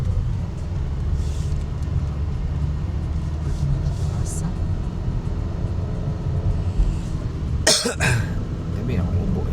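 Coughing outdoors on a hillside farm campsite, a couple of sharp bursts near the end over steady background noise and distant traffic rumble, with people talking around it.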